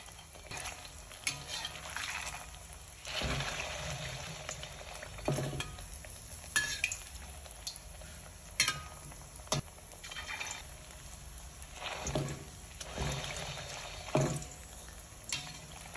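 Fish-paste balls made from featherback fish fry in hot oil with a steady crackling sizzle, broken by several sharp clinks and scrapes of a utensil stirring in the pan. No voice is heard.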